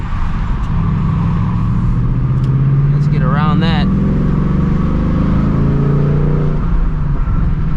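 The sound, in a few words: 2024 Ford Mustang GT engine with 6-speed manual driving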